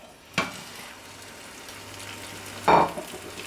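A potato tortilla in a frying pan gives off a quiet, continuous sizzle. Two sharper bursts of frying noise rise above it, one near the start and a louder one later, with no talking.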